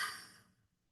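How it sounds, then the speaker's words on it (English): A single soft open-mouthed exhale with a breathy ha sound during a pranayama breathing practice, close and quiet, fading out within half a second. "Exhale through your mouth with a ha sound."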